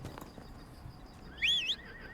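A horse in a video game whinnies once, a short rising-and-falling neigh over a low, steady background hum.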